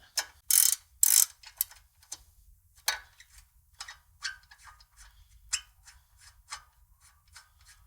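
A ratchet wrench removes a castle nut from the upper control arm on a Ram 1500 truck, producing close, quick bursts of clicking with a few louder snaps in an irregular rhythm.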